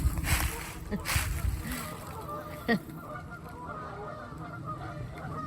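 Geese honk in scattered bursts at a distance at Trap Pond State Park, Delaware, with a louder honk near the middle, over steady outdoor background noise and some faint voices.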